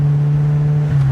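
A 2010 Lotus Elise's small engine holds a loud, steady droning hum up close for about a second, with no speech.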